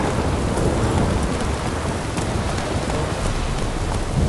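A constant rush of heavy rain in The Witcher 3 fills the scene, with low thunder rolling underneath. Loud and unbroken throughout, with no talking.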